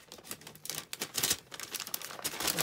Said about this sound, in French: j'enlève le scotch qu'il y a partout.